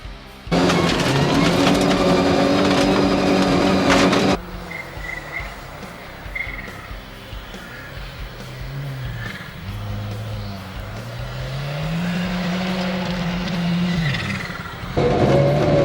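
A Subaru STI-powered rally car on rubber tires over icy roads, its engine roaring loud and close at the start and end, with rising and falling revs heard more distantly in between.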